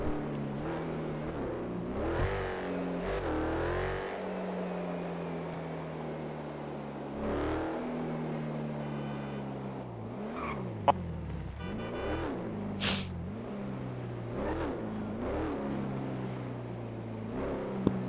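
Cars racing in a video game, including an Acura NSX and a Ford, with engines revving and rising and falling through gear shifts in steady repeated sweeps, loud and continuous, with occasional brief clicks.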